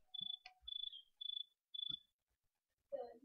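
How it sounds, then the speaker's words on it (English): Crickets chirp in short, bright, rapid trills repeated four times with brief gaps, fairly close and clear against a quiet background, followed by a person speaking at the end. "You mad at those crickets?"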